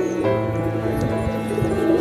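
Wild pigeon perched nearby gives soft, low coos over a steady humming background, close and fairly loud, with no talking.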